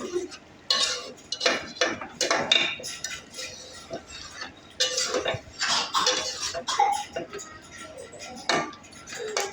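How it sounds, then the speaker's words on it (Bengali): A pot lid lifts and duck curry gets stirred over medium heat, with sharp metallic clinks and scrapes of a spoon against the pan coming in irregular bursts, close and fairly loud, with no voices. "মাঝে মাঝে ঢাকনা উঠিয়ে নেড়ে ছেড়ে দেই, যাতে নিচে থেকে লেগে না যায়।"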